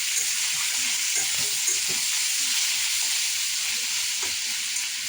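Taro root curry fries in a home kitchen pan, a continuous close sizzling hiss with faint stirring and scraping knocks underneath, steady throughout with no talk.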